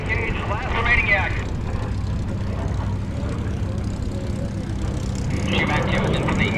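A warbird airplane flies a mock dogfight pass at the Chino airshow, its engine droning and swelling at moderate distance, overlaid by radio chatter and talk.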